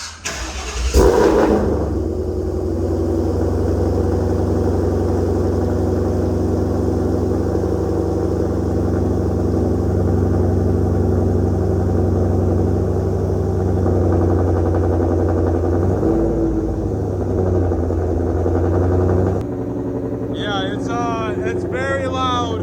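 A 2022 Shelby GT500 fitted with long tube headers and without catalytic converters, idling very loudly, its exhaust booming out of one tip after a sharp start-up blip; deep, steady rumble, with someone speaking near the end.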